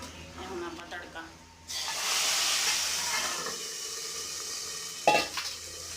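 A tadka of cumin for kadhi with pakoras lands in the pot after a little quiet talk. A sudden loud sizzle erupts and holds as a strong hiss, then a clatter near the end.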